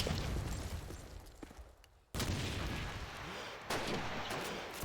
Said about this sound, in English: Early nades coming over.